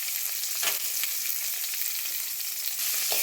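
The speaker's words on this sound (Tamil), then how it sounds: "வெங்காயம் இந்த அளவுக்கு வதங்கினா போதும்" Chopped onions, dried red chillies and curry leaves sauté in hot oil for a chayote and pea stir-fry, giving a steady, close sizzle and crackle that runs throughout with occasional stirring scrapes.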